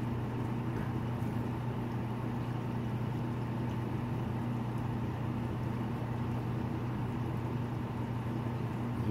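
A hummingbird hovers right beside the ear, its wings making a steady, close, continuous low hum that stays constant and loud throughout.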